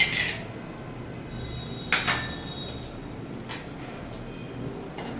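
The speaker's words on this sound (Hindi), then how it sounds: "अब हम बादाम को हल्का सा रोस्ट कर लेंगे" Almonds lightly roasting in hot ghee in a kadhai, with a few sharp metal clinks of a utensil against the pan over a low, steady background.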